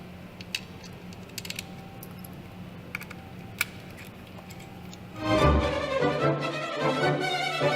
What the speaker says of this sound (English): Now you see your screw holes where you need to screw screws back.